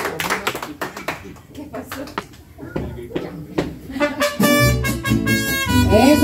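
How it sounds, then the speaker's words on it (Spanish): Clapping and tapping at a birthday celebration for Sonia with a youth mariachi band, irregular hits over voices, then music with sustained tones and heavy bass comes in. "regalé mis aplausos bien bonito para Sonia"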